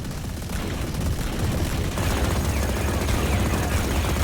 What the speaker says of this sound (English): these Odin sounds are so reminiscent of the helicopter